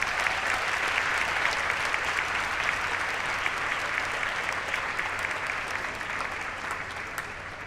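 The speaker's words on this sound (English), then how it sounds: "So let's please give them a round of applause." An audience at a dual enrollment recognition ceremony applauds the boards of trustees and education, a full, steady roar of many hands clapping that holds for several seconds and eases slightly toward the end.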